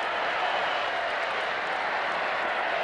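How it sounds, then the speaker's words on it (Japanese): Continuous applause in a visual novel game, a smooth even wash of clapping at constant level with no individual claps distinct and no pauses. "鳴りやまぬ拍手"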